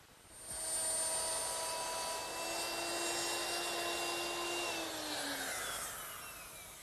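A router with a quarter-inch round nose bit plows out recesses in wood, a steady high whine that runs continuously and then tapers off as the pitch drops near the end.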